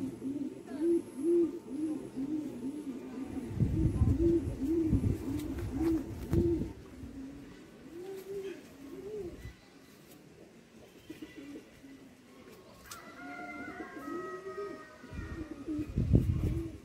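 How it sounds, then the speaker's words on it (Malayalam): Several pigeons of various breeds coo in repeated, rhythmic rounds close by, the soft throaty calls rising and falling in bursts with brief lulls between them. "അതുപോലെ ഒരു സൈഡിൽ പ്രാവുകളുണ്ട്, നിറയെ പ്രാവുകളുണ്ട്. വിവിധ ഇനം പ്രാവുകൾ."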